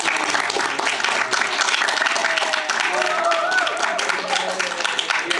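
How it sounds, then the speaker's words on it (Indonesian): A crowd at an Indonesian school's ecobrick showcase gives lively, sustained applause, dense and close, with voices murmuring beneath the clapping throughout. "Terima kasih, tepuk tangan buat teman-teman."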